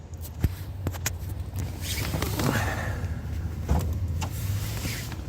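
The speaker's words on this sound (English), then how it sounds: "Right, I'll pop the bonnet up." Bonnet of a BMW E46 being popped open: a few clicks and clunks of the release and latch, with rustling and movement around the car in a moderately noisy setting.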